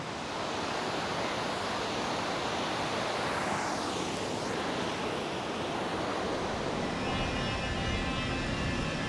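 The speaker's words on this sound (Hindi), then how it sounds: "पहाड़ और जंगल के बीच झरने का शोर और नीचे कल कल बहता पानी" Steady roar of a waterfall with water flowing below, set between hills and forest, a dense continuous wash of sound heard alone and fairly close.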